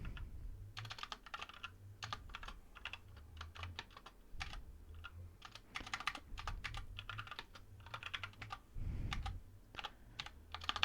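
Typing on a computer keyboard during a Minecraft session, with quick bursts of close, crisp key clicks and pauses between them, steady and fairly quiet.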